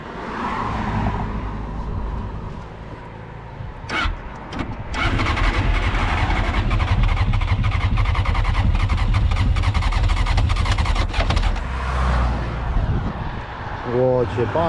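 A sport motorcycle that has been filled with diesel fuel cranks and catches, its engine running rough and loud after a brief stutter, then revving unevenly before dying down, close by, with people talking around it.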